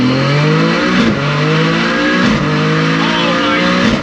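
A 500 hp Toyota GR Corolla accelerates hard in first gear, its engine loud and close as the revs climb in rising sweeps, with faint voices underneath.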